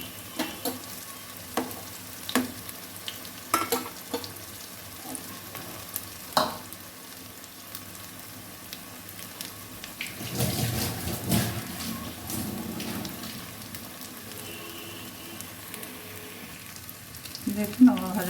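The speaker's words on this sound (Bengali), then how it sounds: "উল্টে পাল্টে আমি লাল করে ভেজে নিলাম। মিডিয়াম আঁচে ভাজবেন" Pumpkin leaf pakoras deep frying in hot oil over medium heat, a steady close sizzle with occasional stirring clatters and a louder bubbling burst midway, no voices.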